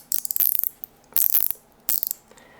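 Johnson 230 Crappie-Pro fishing reel with its clicker turning, heard as three short bursts of rapid, sharp ratcheting clicks, close and clear, separated by brief pauses.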